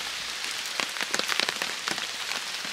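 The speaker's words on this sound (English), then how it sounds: "that's the rain well and truly on now" Steady rain patters onto a tarp at a wild camp with a hammock, a dense hiss broken by louder close drops landing in uneven bursts, with no voices.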